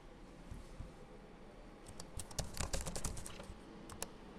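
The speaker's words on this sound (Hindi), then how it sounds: "I am pressing the keys, की प्रेस हो रही है लेकिन एंट्री नहीं आ रही" Computer keyboard keys clatter in quick, irregular bursts of typing, light clicky taps close up over a faint background hum.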